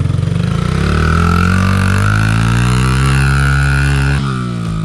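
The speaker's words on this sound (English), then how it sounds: "I want you to put it in first gear and just kind of roll on the throttle and head up over top that mound" A Honda XR50 fitted with an 88cc big bore kit pulls uphill in first gear, its loud, close engine note rising steadily in pitch as it accelerates, then easing slightly near the end; no talking.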